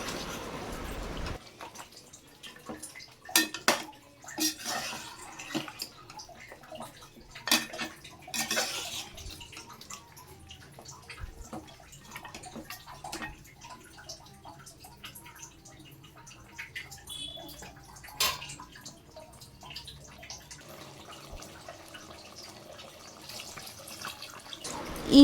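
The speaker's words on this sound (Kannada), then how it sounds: "ಈಗ ಇದಕ್ಕೆ ಅದೇ ಮಿಕ್ಸಿ ಜಾರ್ನ ತೊಳೆದ್ಬಿಟ್ಟು ಮಟನ್ ಬೇಯಲಿಕ್ಕೆ ಎಷ್ಟು ನೀರು ಬೇಕೋ ಅಷ್ಟು ನೀರನ್ನು ಸೇರಿಸಿ" A mixer jar is rinsed under running water and the water is poured into a pot of mutton sambar. Intermittent splashes, drips and light clinks of metal in a quiet kitchen, with no talk.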